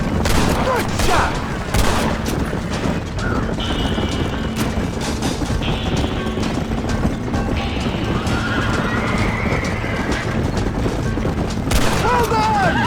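Gunfire in Red Dead Redemption during a Western story mission, several sharp shots scattered among horse whinnies and clip-clopping hooves, all set against a dense, busy game soundscape.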